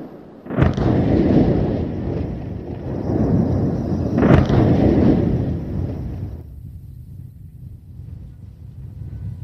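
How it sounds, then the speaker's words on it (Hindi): Two heavy, booming drone blasts a few seconds apart in an attack on Russian bombers, each a sharp crack swelling into a long rumbling roar, then a low windy hiss trailing off. "ड्रोन रूसी बमवर्षकों पर मंडराते फिर गिरकर विस्फोट करते दिखते हैं"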